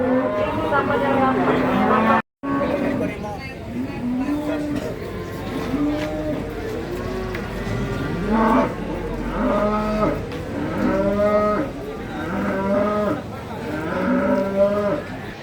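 Cattle moo repeatedly in long, drawn-out calls at a livestock market in Babat, Lamongan, several animals nearby, with a low rumble of background noise and occasional voices.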